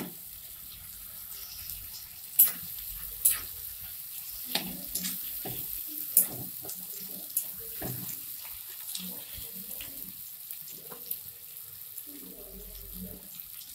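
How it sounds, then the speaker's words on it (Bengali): A little water goes into a pan of frying tomatoes for jackfruit kalia, bringing a soft sizzle, light splashing and a few sharp utensil clicks. The sounds are fairly quiet and scattered. "সামান্য একটু জল দিয়ে দিচ্ছি"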